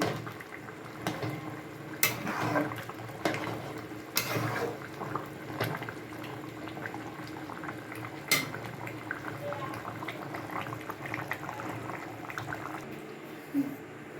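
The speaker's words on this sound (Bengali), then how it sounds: "ফোটাবো একটুখানি, ফুটিয়ে নামিয়ে দেবো" A pot of chicken curry with garam masala simmers at a steady boil, a continuous bubbling hiss broken by occasional clinks of a utensil against the pot, with faint speech now and then.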